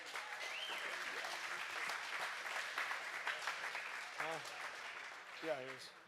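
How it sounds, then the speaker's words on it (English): Applause from a restaurant crowd at a live coach's show, a steady clapping wash with voices and short vocal bursts rising over it near the end. "Hey, can you give these guys a round of applause,"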